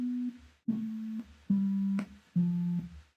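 Four sustained low sine-wave tones from a web-based synthesizer keyboard, each held under a second with short gaps, pitch stepping slightly between notes and faint clicks at the switches.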